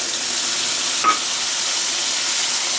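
A paste of ginger, garlic and green chili frying in a pan gives a steady, even hiss with one brief light clink partway through. The sound is close and loud throughout.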